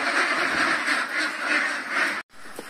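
Ducks newly moved onto a Philippine duck farm quack continuously as a loud, dense flock, a steady chorus of overlapping calls that briefly cuts out near the end before resuming.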